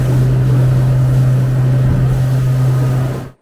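A heavy 6-metre Edencraft 6.0 offshore boat runs on twin 140HP Suzuki outboards, giving a loud, steady low engine drone that holds even before cutting off sharply at the end.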